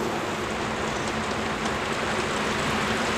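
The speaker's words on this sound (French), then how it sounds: "un ensemble qui crée une parfaite illusion sonore de pluie" Steady, dense patter like heavy rain falling, made by motor-spun strings in an art installation, a continuous broadband hiss without pauses, fairly close and even throughout.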